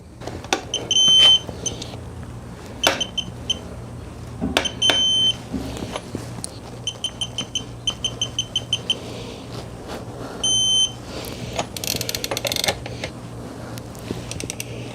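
A VANPO half-inch drive digital torque wrench beeps sharply at target torque during a tire rotation, clusters of high electronic beeps repeating over the creak and click of the wrench on lug nuts.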